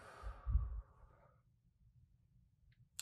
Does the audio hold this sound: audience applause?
no